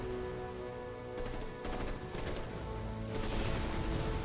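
Rapid bursts of gunfire pound a submarine in the video game Civilization Beyond Earth, arriving in several loud, dense volleys with short gaps between them.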